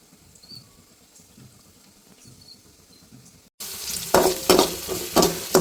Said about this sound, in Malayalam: ചെറിയുള്ളി വഴന്ന് വന്നിട്ടുണ്ട്